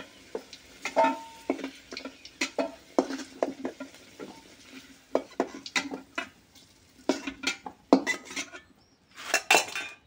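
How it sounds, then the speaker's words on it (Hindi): Crab pieces frying in oil in a pan for a crab and potato curry, with repeated clinks and scrapes of a metal utensil against the pan, irregular and fairly close. "कांकड़ को भाजिबा।"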